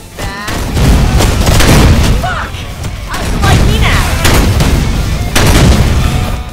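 Gunfire and explosions in the video game Rise of the Triad, loud rolling booms and blasts following one another almost continuously, with a few sharp bursts of shots layered over the rumble.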